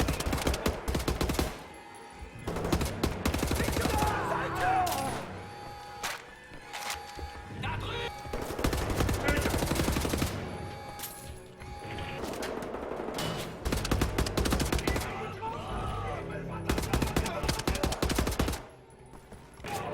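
Rapid bursts of automatic gunfire from the video game Wolfenstein: The New Order, loud and dense with heavy impacts and crashes, punctuated by short pauses between volleys.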